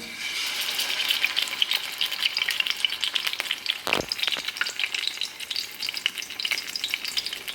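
Bread soaked in a milk and egg mixture fries in a pan for egg bun snacks, giving a loud continuous close sizzle with a sharp burst of spitting partway through and occasional stirring noises.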